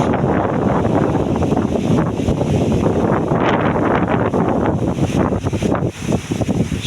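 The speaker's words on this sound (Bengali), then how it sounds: "দেখেন চারপাশটা কত সুন্দর বাতাস ছাড়ছে কিন্তু প্রচণ্ড হালকা হালকা বৃষ্টিও পড়তেছে দেখেন প্রচণ্ড বাতাস" Strong gusting wind before a storm roars continuously across an open outdoor spot with light rain falling, buffeting the microphone loudly throughout and easing slightly toward the end.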